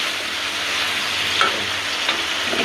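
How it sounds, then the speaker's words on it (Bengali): Fish oil and spices sizzle in a pan while being stir-fried for an eggplant curry, a steady close crackling hiss with a few sharper spatters and stirring scrapes, no voices. "তেল লিগে একটু বেশি পানি দিয়ে মাছের তেলটা কষাই দিছি"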